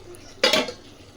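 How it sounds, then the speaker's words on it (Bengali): A metal lid lifts off a pot of mutton frying in spice paste, giving one short scraping clank at close range followed by a quick fading rattle, with no talk. "এবার আমি ঢাকাটা খুলে নিচ্ছি"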